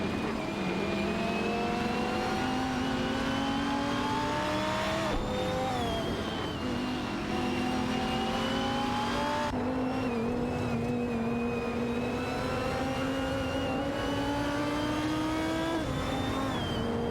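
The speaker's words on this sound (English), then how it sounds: "We're currently watching an exciting AI racing event with all kinds of cars zooming around the Mugello track" Race cars in a racing video game roar around the Mugello circuit, their engines rising and falling through gear changes as several cars pass in a continuous loud stream of revving.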